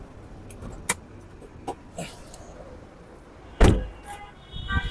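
A used car's engine hood is opened close by: a few light clicks and rattles, then a solid metallic clunk.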